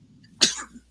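One short, sharp sneeze bursts out abruptly mid-conversation during a sports talk discussion, a quick loud burst that fades fast into quiet.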